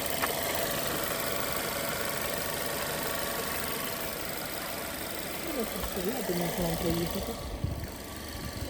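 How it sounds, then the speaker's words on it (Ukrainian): An Opel Astra engine idles with a steady low rumble and slight knocking; someone speaks briefly over it near the end. "Мотор працює непогано."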